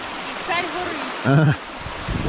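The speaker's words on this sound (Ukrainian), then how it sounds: "Чому? Тому що тут річка." A mountain river rushes in a steady broad wash of flowing water, close and continuous, while someone speaks briefly over it.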